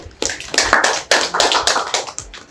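An audience at a music show claps in short loud bursts of hand clapping, close and uneven, with brief pauses between waves.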